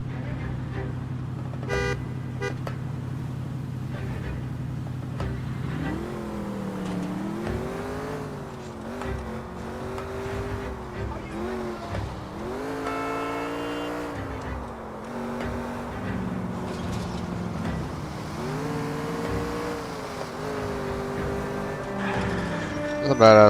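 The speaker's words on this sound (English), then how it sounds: "This is a badass little car" Engine of a small car in L.A. Noire revving and shifting pitch as it accelerates and drives, with honks and tire squeal mixed in, steady and fairly loud throughout.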